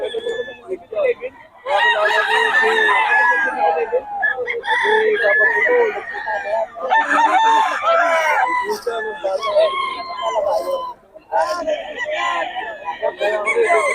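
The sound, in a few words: rooster crowing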